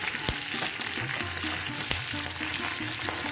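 Asafoetida hits hot oil while a tempering is made for tomato rasam. A continuous bright sizzle crackles near and loud, with a few sharp pops and low bubbling underneath.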